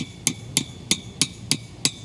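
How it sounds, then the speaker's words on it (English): A mallet strikes oversized tent stakes at a festival campsite, six sharp evenly spaced knocks about a third of a second apart, close and crisp against quiet outdoor background. "I'm going to hammer them in. I have a nice mallet to use"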